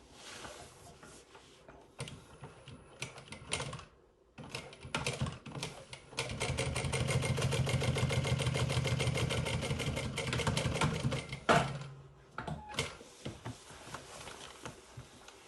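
An industrial sewing machine stitches fabric in a fast, even mechanical patter, starting and stopping in short runs before a longer steady burst in the middle, close and clear.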